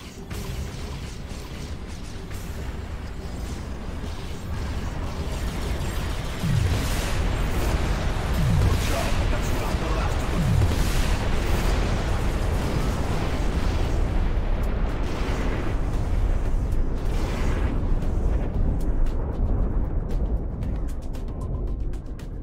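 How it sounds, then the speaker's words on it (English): EMP strike explosions in the sci-fi shooter Global Agenda, heavy booming blasts and low rumbles layered over continuous mechanical din and noisy battle ambience, loud and sustained throughout. "Initiating EMP strike."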